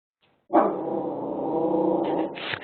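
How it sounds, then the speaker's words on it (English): A puppy barks and yips loudly and continuously at a nearby passing dog, indoors, with a brief faint sound before the barking starts and no talking. "I have a puppy that is behind me this morning, and she doesn't like that another dog just walked by."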